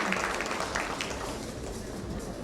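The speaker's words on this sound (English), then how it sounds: "Come on, let's have some applause, please." Audience applause for panelists at a panel discussion, a steady wash of clapping from a room of people that is moderately distant and gradually thins out over a couple of seconds.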